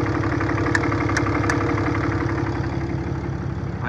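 A 2008 Dodge Ram 2500 with the 6.7L Cummins diesel idles close by, giving a loud, steady low rumble with a rapid rhythmic diesel clatter and a few faint ticks.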